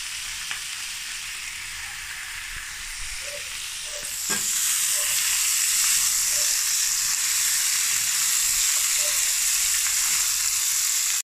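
Chili and eggplant sizzle in a hot pan for pork binagoongan, a steady close frying hiss that swells louder after a few seconds, with faint clinks of stirring underneath.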